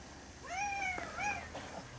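A house cat gives two close, clear meows, one longer and one shorter, in a quiet room.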